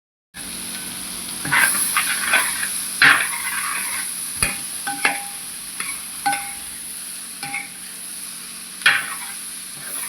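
Chopped ivy gourd (kovakka) stir-fries in a pan, a soft continuous sizzle punctuated by sharp spatula scrapes and knocks against the pan at irregular intervals, close and alone without talk.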